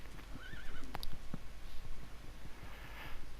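In Minecraft, a horse lets out a short, quivering whinny early on, followed by a few faint clip-clop taps and quiet game ambience, near and without any talk.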